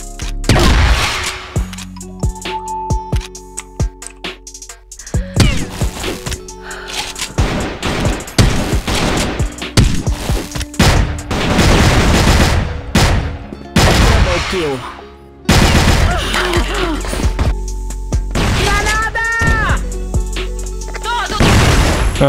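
Rapid gunfire bursts in an online ranked shooter match, loud and close, coming in clustered volleys with booms and crashes across the whole span, while someone talks over much of it.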